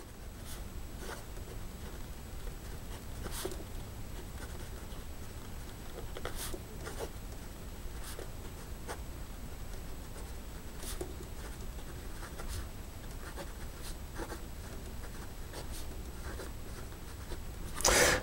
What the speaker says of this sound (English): So here we go with a writing sample.